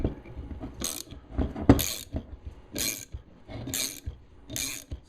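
A Harbor Freight bearing puller is tightened on a jointer pulley: a run of metallic ratchet clicks comes in repeated bursts with short pauses between, close and moderately loud, with faint clinks underneath.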